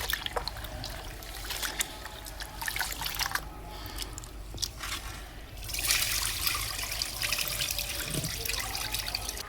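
Rice grains are rinsed by hand in water for a traditional Indian Diwali snack, a continuous close trickling and sloshing with scattered splashes throughout.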